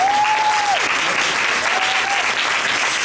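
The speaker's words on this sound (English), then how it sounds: "I would like to welcome them and give them a round of applause." An audience at a Portland Public Schools board meeting gives a round of applause, dense steady clapping filling the room at close range, with a brief whistle-like tone over it.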